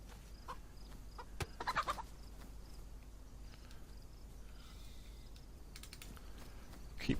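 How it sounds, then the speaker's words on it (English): A chicken clucks in the survival game DayZ on the Livonia map, faint and intermittent, with a short burst of clucks near the start over a quiet, steady background hiss. "Hello, chicken."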